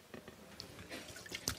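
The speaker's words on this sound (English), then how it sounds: "oranges and lemon, squeeze the juice right in there" Oranges and lemons squeezed by hand into a brine of sugar, salt and water for a Thanksgiving turkey, giving quiet, brief drips and wet squishes with no talking.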